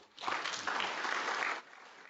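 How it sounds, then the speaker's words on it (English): A school audience at a Pro Football Hall of Fame event breaks into brief applause, a faint, soft burst of clapping lasting about a second and a half before cutting off. "Let's give yourselves a round of applause."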